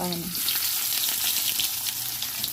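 Ingredients for ginataang talong with dried fish sauté in a pan with a steady, close hiss of frying oil and faint stirring, after a brief voice at the start.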